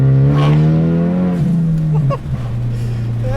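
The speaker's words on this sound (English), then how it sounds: "I'll leave you guys with a nice little acceleration here, like I always do." A Ford Mustang accelerating hard from close by, its engine note climbing steadily through a gear before a brief dip at a shift and a renewed pull, loud and alone without talk.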